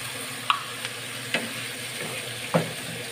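Rice-field snails frying in a pan are stirred with a utensil, giving a steady background sizzle broken by a few sharp scraping clacks against the pan, fairly close and with no voices.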